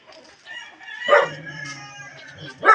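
A rooster in a home yard lets out a single crow, close and fairly clear, rising sharply in the middle and trailing off before a brief final call.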